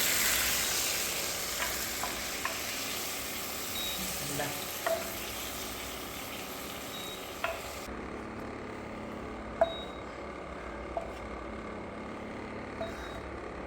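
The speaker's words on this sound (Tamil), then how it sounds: "இறால் வந்து நல்ல வெண்ணெயில் வெந்துருச்சு." Prawns fry in butter in a pan, giving a steady soft sizzle with occasional light clicks and taps from stirring, fairly faint and with no talk.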